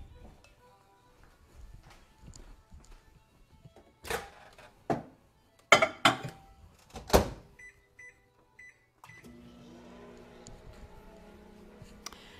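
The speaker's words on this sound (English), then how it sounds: "I'm going to put that in the microwave for 1 minute and 30 seconds" A kitchen microwave oven heats brownie batter ingredients for a minute and a half, a faint low hum under sharp door clunks and button beeps, then the steady drone of the running oven.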